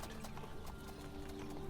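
Horse hooves clip-clop in a steady, repeated rhythm on a road, fairly faint and continuous with no one speaking over them.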